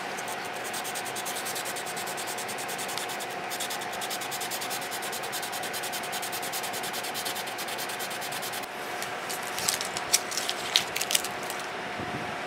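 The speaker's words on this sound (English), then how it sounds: "plus from sanding it makes it thinner and a little more brittle" Steady scratchy rubbing of sandpaper against an acrylic sign, continuous and close, with a few sharper scrapes near the end; no one speaks.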